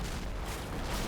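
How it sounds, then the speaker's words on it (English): An RPG fired and missing in the game Combat Mission: Black Sea, a dense rumbling boom that fills the whole moment, loud and continuous with no talk. "These guys are firing an RPG, and they miss."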